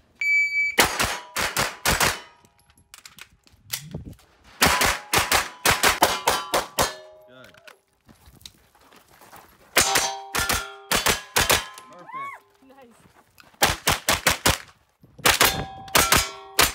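Gunshots ring off steel targets in quick double and triple taps, sharp cracks followed by metallic clangs in several bursts separated by short pauses, with no talk.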